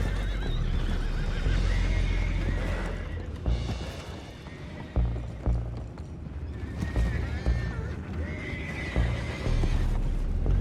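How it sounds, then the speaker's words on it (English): Horses whinny and neigh with hooves clopping in Red Dead Redemption 2, the calls rising repeatedly over a steady low rumble of water and a boat, with faint voices mixed in. "Boys, go find out about those horses down below."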